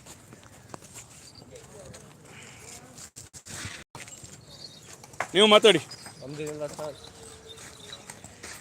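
Horse hooves clip-clop on the ground during a horse ride, a soft rhythmic patter in the background while people talk nearby.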